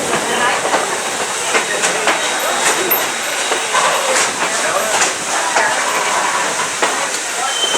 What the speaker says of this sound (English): Old number 475, built 1906 by the Baltimore Locomotive Works.